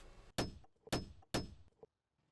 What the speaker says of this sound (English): reset the fasteners flush with the surface, using a hammer and drift pin to avoid denting the wood itself